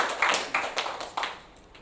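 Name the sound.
seminar audience applause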